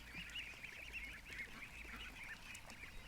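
A pet duck gives a run of harsh, nasal honking quacks, repeated in quick succession, faint and slightly distant against a quiet background.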